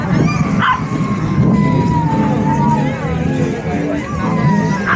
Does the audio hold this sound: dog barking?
yes